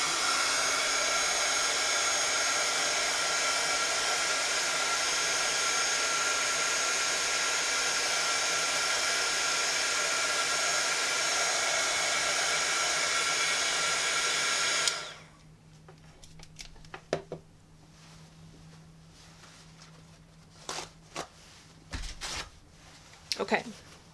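A hair dryer blows on a handmade watercolor swatch of buff titanium paint, a loud, steady, close whir for about fifteen seconds that cuts off abruptly, leaving quiet room tone with a few faint handling clicks.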